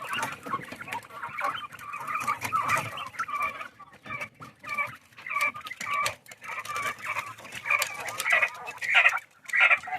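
Backyard hens cluck steadily and close by, with repeated bursts of clucking through the whole stretch, rising and falling in loudness, and faint rooster-like calls mixed in.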